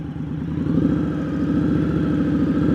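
A motorcycle engine running at low speed during U-turn practice, with a steady, throbbing mid-range drone that swells slightly and holds close and loud throughout.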